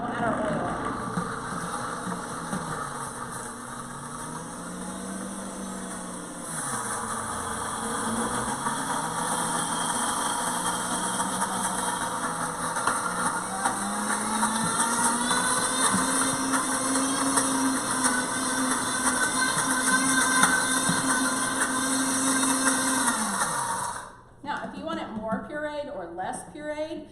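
A blender whirs steadily through pesto ingredients, its motor droning and rising and falling in pitch as the load shifts, then stopping abruptly near the end; a voice talks over the running machine.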